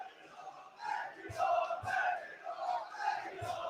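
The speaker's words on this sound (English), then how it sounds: "And the crowd really on Gateshead's side when the ball went forward." Football crowd at a Gateshead versus Blyth Spartans match, chanting and roaring in rising waves of massed voices, moderately distant and continuous, with a few dull thuds.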